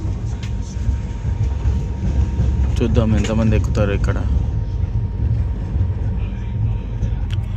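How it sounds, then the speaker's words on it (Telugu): A passenger train of the Pune–Kanyakumari express sits at Koduru railway station, giving off a steady, loud low rumble. Someone talks over it throughout. "మన ట్రైన్ కోడూరు నుంచి స్టార్ట్ అయింది"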